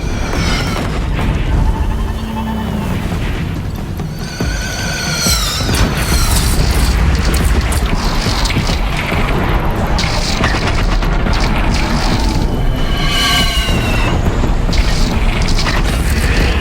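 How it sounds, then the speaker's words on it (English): Cannon fire during a battle to defend Meridian in the PS5 version of Horizon Zero Dawn, with booming blasts and crashes that sit loud and continuous amid a dense, chaotic game soundscape. "Take up a cannon!"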